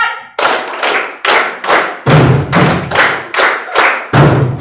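A class of pupils clapping a practised rhythm pattern in unison, about nine loud, sharp group claps in an even beat with some doubled strokes, close and without talk.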